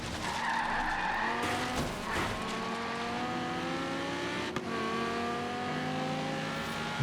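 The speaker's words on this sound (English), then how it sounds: "Well, that drift. Drift was beautiful" A car drifts in the Forza Horizon 3 racing game, its tyres skidding and squealing in a long continuous slide while the engine note climbs and falls underneath. The sound is loud and steady, with no talk.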